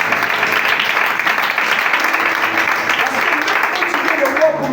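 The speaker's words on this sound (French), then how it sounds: "Oh, acclamez pour cette Jésus." A church congregation applauds during a sermon, with steady, dense clapping filling the hall throughout and a preacher's voice carrying over it.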